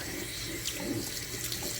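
Water runs steadily in a sink as a purse is washed, a continuous hissing splash with small sloshes of handling, moderately quiet and close, with no voices.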